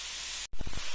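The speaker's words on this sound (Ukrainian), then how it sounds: "Я сюди вкинула невеличкий шматочок, там грам 10-15 вершкового масла. І висипаю сюди наші порізані яблучка." Chopped apples poured into a pan of melted butter, a loud steady hiss of sizzling broken by a brief drop-out, then bursts of crackling and spattering up close.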